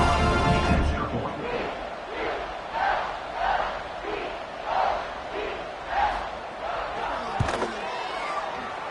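A college football stadium crowd roars steadily after an extra point, rising into rhythmic chanting swells across the stands, broad and loud with a sharp slam-like hit near the end.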